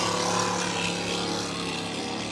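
A 35-foot Fountain powerboat with twin 500 engines races offshore at the Key West Offshore World Championship, its engines holding a loud, continuous, droning roar close by.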